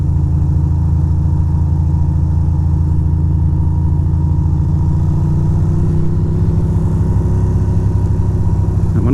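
A car drives along a road inside Astoria Park, its engine humming close and steady before rising in pitch near the end as it speeds up. No one speaks.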